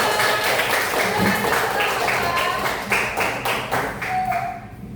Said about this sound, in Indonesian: kita kasih tepuk tangan untuk kalian